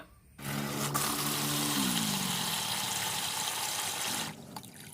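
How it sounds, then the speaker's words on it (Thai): Water runs steadily into a container for a knife rust-removal soak, a broad rushing pour lasting about four seconds, close and fairly quiet, with no voices. "โดยการนำน้ำใส่ภาชนะ"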